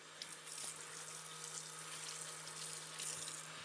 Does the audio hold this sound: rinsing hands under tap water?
yes